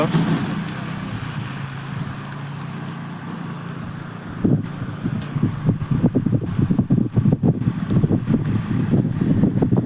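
Wind rumbles and buffets against the microphone, growing gustier and more turbulent halfway through, with a low vehicle-like drone underneath.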